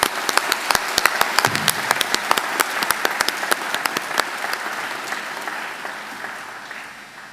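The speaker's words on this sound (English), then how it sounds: "Please join me in giving them a round of applause." Audience applause fills a graduation ceremony hall at Macquarie for Business and Economics graduates, a dense, steady burst of many hands clapping that slowly fades toward the end, with no talking over it.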